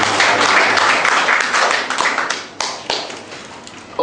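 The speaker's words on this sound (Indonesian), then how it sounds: "Tepuk tangan buat Tuhan kita ini." A church congregation claps during a sermon with a loud, close, dense round of hand claps. It breaks up into a few separate claps, and a voice is briefly heard near the end.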